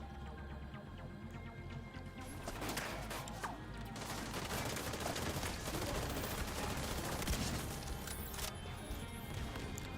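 Sustained rapid rifle fire from The Division 2, a dense continuous rattle of shots layered over busy combat noise and music, steady and loud throughout the stretch.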